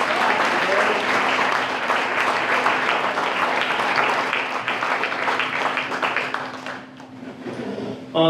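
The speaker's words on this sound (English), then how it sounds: "And one more round of applause." Another round of audience applause for educators at a teacher appreciation gathering in Garland City, loud continuous clapping from a crowd that thins and fades near the end, with voices faintly mixed in.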